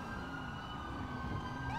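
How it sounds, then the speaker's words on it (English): Police sirens wail from the video game GTA 5, a steady close siren tone over rumbling traffic noise with a rising sweep at the end. "they need to cut sirens"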